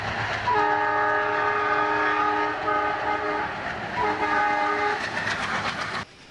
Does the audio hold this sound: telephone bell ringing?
no